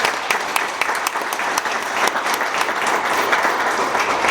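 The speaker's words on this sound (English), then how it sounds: "That deserves a round of applause." Audience applause at a New York City Public Schools celebration, a dense, steady wash of many hands clapping that fills the whole stretch at even loudness with no talk over it.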